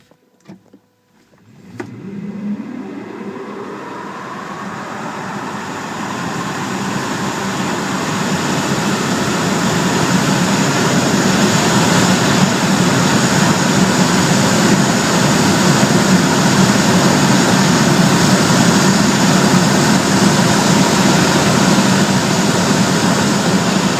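From a dead stop, a rising whine and rushing road noise swell steadily as a Tesla Model S P85 gathers speed, loud and continuous with no talking.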